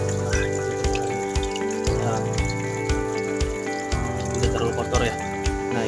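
Water gushes steadily from an opened valve on the first filter chamber of a koi pond during a backwash, a continuous splashing rush with faint talk in the background.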